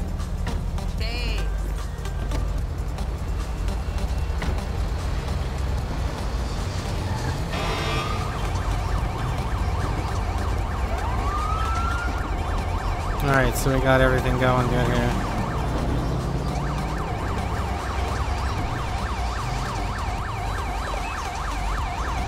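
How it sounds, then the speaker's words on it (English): Emergency vehicle siren in GTA V with the LSPDFR mod, wailing and sweeping in pitch behind someone speaking, with game engine and road noise running steadily underneath. "Funny, he's got a siren."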